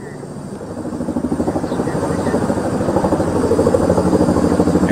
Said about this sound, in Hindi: अमेरिका से आया यह कार्गो हेलीकॉप्टर तेजी से सैनिकों और भारी भरकम वाहनों को एलएसी तक ले जाने में